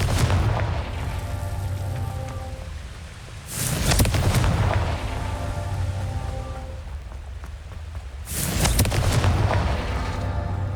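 Two heavy booming blasts from the Confringo fire spell in the Hogwarts Legacy video game, roughly five seconds apart, each rising out of a steady rumble of battle-arena game noise.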